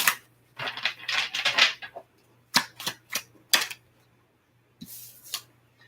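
Tarot cards are shuffled in several quick, crisp riffling bursts, with sharp individual snaps in between and short pauses, close up and fairly loud over a faint hum.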